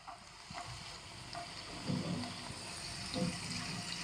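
Ginger tossed into a pan of already-browned garlic, frying with a steady low sizzle and soft stirring scrapes, a couple of slightly louder bursts as the pieces hit the oil.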